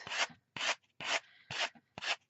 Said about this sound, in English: what I tend to do is just take my sanding block